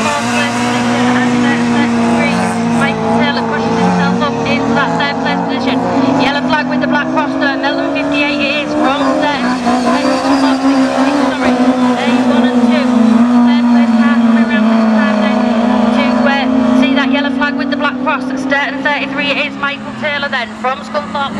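Race cars lap a circuit at the Nige Thompson Memorial meeting, their engines a continuous loud roar with rising and falling pitch, under a commentator talking throughout.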